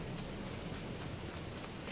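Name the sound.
rain falling in the video game Farming Simulator 22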